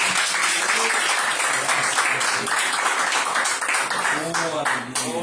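A congregation at a church service claps loudly and continuously, with voices and some singing or calling mixed in over the applause.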